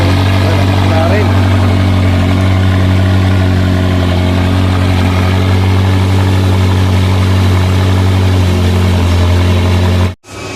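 A McLaren car engine runs steadily at idle for about ten seconds, a strong low hum with a constant tone, then cuts out abruptly near the end; voices can be heard faintly behind it.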